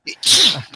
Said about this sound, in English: will stop sneezing